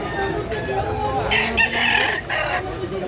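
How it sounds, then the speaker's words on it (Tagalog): Roosters crow in a Cebu poultry yard, two or three drawn-out calls overlapping with clucking hens, close and fairly loud over a low background. "Gandang mga manok."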